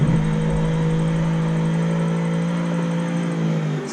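A 1996 Holden Commodore SSR drift car with a V8 engine holds a loud, steady, close rev during a drift, and a low tyre roar runs underneath.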